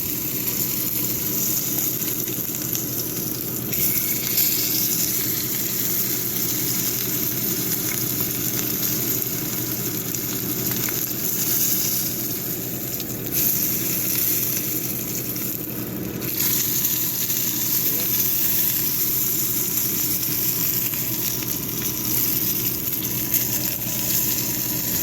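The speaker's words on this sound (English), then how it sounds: "just sear those edges up." New York steak edges searing in a hot frying pan, a steady loud sizzle and crackle of fat that holds without pause, with no talking over it.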